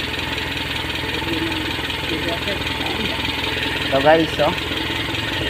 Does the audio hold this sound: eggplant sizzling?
no